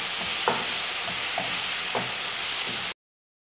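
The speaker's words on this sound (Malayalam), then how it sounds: "ഇതിൻ്റെ പച്ചമണം പോകുന്നവരെ നന്നായിട്ടൊന്ന് വഴറ്റി കൊടുക്കണം." Onions frying in a pan with ginger, garlic and green chilli paste for a chicken dum biriyani, giving a steady close sizzle with a few soft stirring scrapes, no voices.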